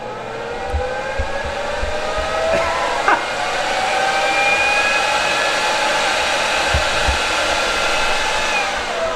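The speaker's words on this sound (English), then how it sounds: "I'll show you the spindle turning on, which is rather intimidating and quite exciting" An Avid CNC router spindle spins at its lowest speed, 1,000 RPM, giving a steady, close whine with faint pitch sweeps above a low hum, joined by a few soft thumps.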